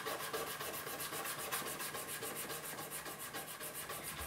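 Frets on an acoustic guitar being refretted are sanded in quick, even back-and-forth strokes, a close, continuous rhythmic rasping with no talk.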